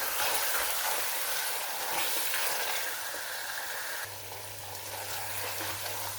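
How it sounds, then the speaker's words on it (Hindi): Yogurt frying in a pan for a karela gosht bitter gourd and meat gravy, a dense steady sizzle and hiss, close and loud, with a low hum joining in the final seconds. "यहाँ पे हम दही को भी 2 से 3 मिनट के लिए भून लेंगे।"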